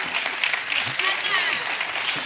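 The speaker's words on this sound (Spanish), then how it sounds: "Y un aplauso para Carmen, que está por ahí." An audience at an anniversary band concert in Antequera claps in a dense, continuous patter while someone speaks over the applause.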